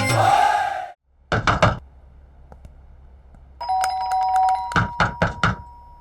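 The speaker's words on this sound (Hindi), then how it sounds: "मैं बजा रहा हूँ ना घंटी।" A doorbell chimes twice in quick bursts, clear and close, with a quiet pause between the rings and no talking over it.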